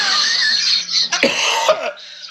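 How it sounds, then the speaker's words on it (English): A couple of harsh coughs burst out close by, followed by a short throaty sound, with no talking. "God, I'm coughing up a storm here."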